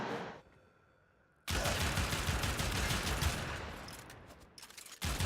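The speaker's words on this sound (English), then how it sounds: "I'm just holding the button, because it's automatic shotgun" Pyrana Prime automatic shotgun in Warframe fires a dense, continuous burst of rapid blasts after a quiet lead-in, loud and unbroken for several seconds before cutting off, with one last shot at the end.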